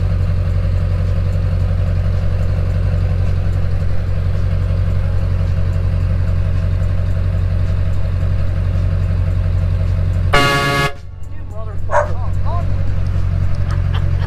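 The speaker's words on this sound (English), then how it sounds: "Train horn." A short, loud, brassy train horn blast from a Duramax dually pickup cuts through a steady idling diesel engine rumble, followed by faint distant sounds.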